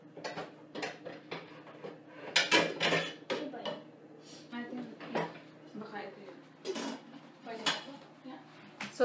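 A lid set onto a pot of pork liempo sinigang with a few light metallic clinks and knocks among scattered kitchen clatter, close by, with voices talking over it.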